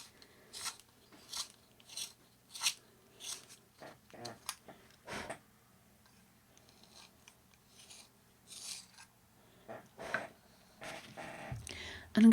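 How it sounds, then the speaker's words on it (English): A dark indigo colored pencil is sharpened by hand: a series of short, rhythmic rasping strokes, close and fairly soft, with brief pauses between some of them. "I'm going to also take some dark indigo, which I'm going to sharpen up to a nice point"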